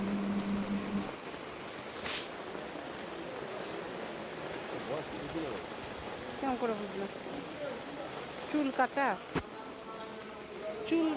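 Heavy storm rain pours steadily near a cremation ground where people shelter, a dense constant hiss that fills the whole stretch, with faint voices talking underneath.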